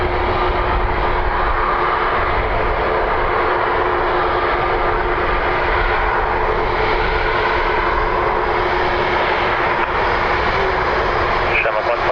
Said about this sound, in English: Aer Lingus off to London Heathrow on this 320neo.